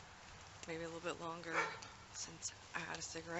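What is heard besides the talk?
neighbour's dog barking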